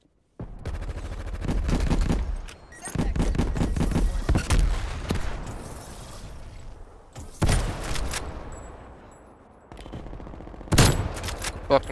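Rapid bursts of automatic gunfire from a Call of Duty Cold War match, loud and close, firing in several sustained volleys separated by short pauses.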